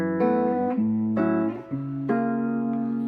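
Clean electric guitar with flatwound strings on the middle pickup position, played by fingers, a few sustained notes and chord changes with a slightly brighter, hollow tone, heard alone.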